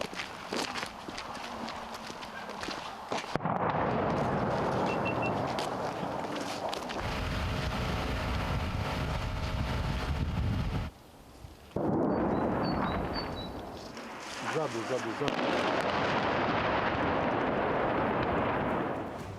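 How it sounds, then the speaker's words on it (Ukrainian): Heavy, rumbling artillery blasts in Pokrovsk, Ukraine, roll through a long, dense roar of noise, with a brief lull before another booming stretch; a voice shouts briefly. "Вибухи у Покровську лунають постійно"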